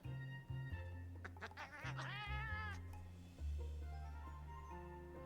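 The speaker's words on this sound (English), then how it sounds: "That's my cat." A pet cat meows indoors, a drawn-out, rising and falling call heard softly over a steady low hum of video game music.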